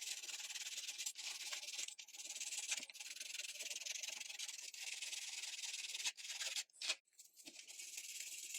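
Scrubbing the main shell of a DJI Mavic 4 Pro drone during a restoration gives quiet, close, continuous brushing and rubbing strokes, with a few brief pauses between passes.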